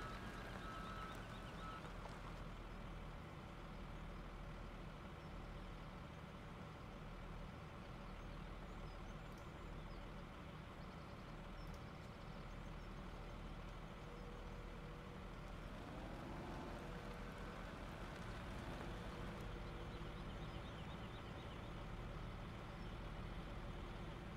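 A heavy mining rock truck in Farming Simulator 17 drones steadily with a low, constant engine rumble throughout, with a brief shift in pitch partway through and no talk.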